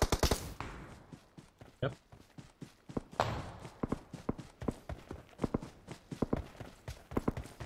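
Gunfire in the mobile battle royale PUBG Mobile, a rapid series of sharp cracks and bursts spread through the clip, some clustered close together, with someone talking over the shots.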